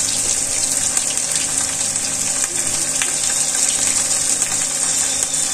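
Small shrimp sizzle with bitter gourd greens in a hot pan, giving a steady, loud, hissing sizzle with no talking.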